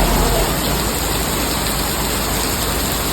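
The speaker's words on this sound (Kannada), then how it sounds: "ಗೋವಾ ಫುಲ್ಲು ಮಳೆ ಗಾಯ್ಸ್." Heavy monsoon rain in Goa pours steadily, a dense, even hiss that stays loud throughout with no talking.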